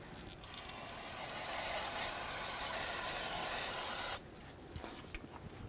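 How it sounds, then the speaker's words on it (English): Brake parts cleaner sprays from an aerosol can around a Chevrolet Silverado 2500 HD brake master cylinder, making one close, sustained hiss of about four seconds that stops sharply and is followed by faint dripping and clicks. "I'm going to take some brake parts cleaner and clean it all up"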